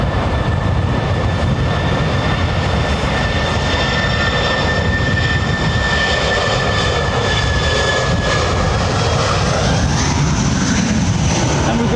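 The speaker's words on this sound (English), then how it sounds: "Embraer E-Jet the E2." An Embraer E-Jet E2 airliner at London Heathrow Airport sends out a steady, loud jet engine roar with a rumbling low end and faint whining tones, unbroken throughout.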